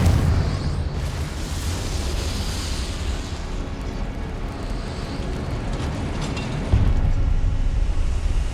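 A Confringo blasting spell explodes in Hogwarts Legacy with a loud, rumbling burst, and heavy low booms and crackling debris roll on continuously, swelling again near the end.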